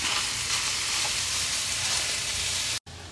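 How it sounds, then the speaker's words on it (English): Food browning in a hot cast iron skillet gives a loud, steady, hissing sizzle close by, cutting off abruptly near the end before a quieter sizzle resumes. "Alright, we're going to brown this up."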